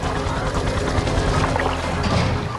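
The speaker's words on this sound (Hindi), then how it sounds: "एक विशाल बचाव हेलीकॉप्टर आसमान से उतरता है" Large rescue helicopter descending from the sky: a loud, steady, dense roar with rapid rotor chopping filling the whole clip, without pause.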